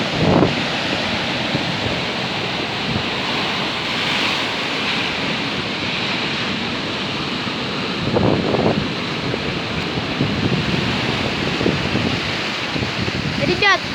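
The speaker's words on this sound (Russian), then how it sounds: "Но ветер очень сильный." Strong wind and crashing surf on a stormy seafront at Loo, a constant roaring rush of wind buffeting close up with waves surging beneath, swelling louder at moments.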